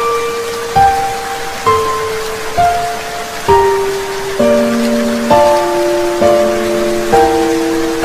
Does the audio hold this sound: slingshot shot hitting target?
no